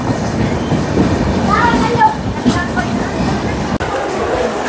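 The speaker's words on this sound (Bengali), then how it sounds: "হাওড়া থেকে 176 কিলোমিটার পার করে আমাদের ট্রেন ঢুকলো রামনগর বেঙ্গল" Kandari Express passenger train rolling on rails near Ramnagar on the way to Digha, a steady close rumble with faint wheel squeals and brief clatter, heard from on board.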